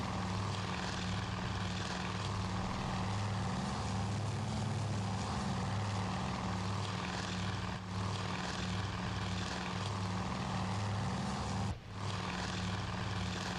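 Propeller aircraft engines drone steadily in Task Force Admiral, with enemy planes and torpedo bombers overhead. The roar is loud and continuous, with brief dips in the noise and no speech.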